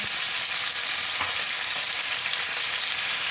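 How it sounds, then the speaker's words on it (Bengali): Okra and vegetables with salt and turmeric frying in a pan for sambar dal, a continuous, close, fairly loud sizzle with a steady crackling hiss and no voices. "দিয়ে এটাকে আমি একটু ভেজে নেব"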